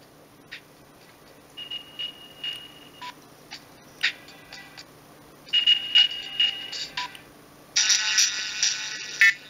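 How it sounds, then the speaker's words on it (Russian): A WAV ringtone plays from a Siemens CX75 mobile phone as a series of short electronic beeps and tonal bursts, close and clear, growing denser and louder near the end. "Видите, как звучит этот рингтон?"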